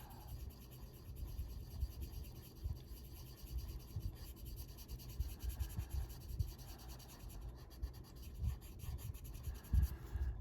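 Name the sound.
colorless blender pencil scratching on a coloring page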